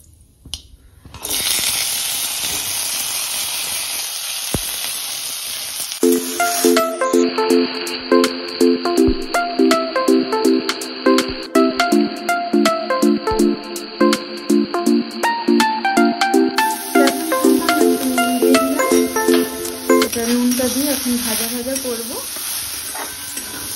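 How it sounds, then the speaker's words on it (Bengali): Vegetables and cumin frying in ghee in a pan give a steady, close sizzle that runs almost the whole time, with frequent clinks and scrapes from stirring. "সবজিটা ভেজে নিচ্ছি"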